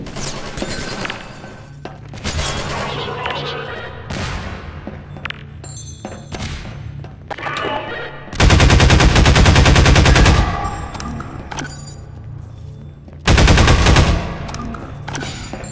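Automatic gunfire in the Half-Life 2 mod Prospekt, loud sustained bursts of rapid shots alternating with scattered single shots and booms, close and dominant, with no talk in between.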